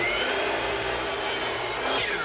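A saw cuts 1x8 select pine boards in half with a continuous, close, rough rasping noise. The noise holds at a steady level for the whole stretch, with no voices.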